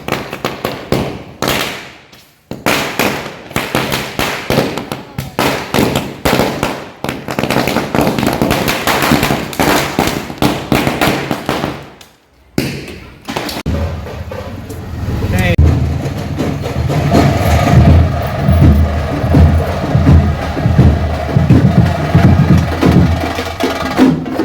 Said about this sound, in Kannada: ನಮ್ಮ ಮಕ್ಕಳು ಪ್ಲ್ಯಾನ್ ಈಗ ಪಟಾಕಿ ಹೊಡಿತಾರೆ ನೋಡಿ.